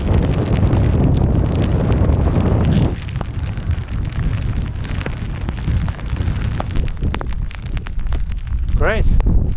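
Strong headwind buffeting a microphone while cycling through a hailstorm in China, a loud rough roar that eases after a few seconds into gusty rushing with sharp ticking hail hits, and a short voiced sound near the end.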